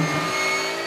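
Race cars at the start of a race at the Dijon-Prenois circuit, heard as a brief, steady, humming engine drone at moderate loudness.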